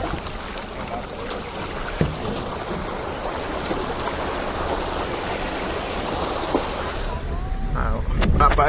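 A river runs in a steady, broad rushing wash, close and continuous, amid heavy rain, with faint voices now and then underneath.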